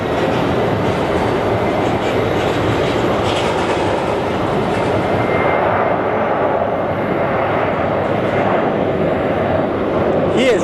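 An Airbus airliner at Phoenix Sky Harbor airport makes a loud, continuous broadband jet roar that stays strong and steady throughout, with faint background sounds beneath.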